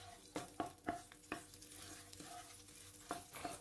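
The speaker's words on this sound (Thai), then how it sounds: "ตั้งกระทะใส่น้ำมันลงไปเล็กน้อยครับพริกแกงเผ็ด2ช้อนโต๊ะครับใส่ลงไปผัดเลยครับ" Soft stirring and scraping of red curry paste frying in a little hot oil in a wok, low sizzle, with a few distinct clinks of a utensil, close and fairly quiet.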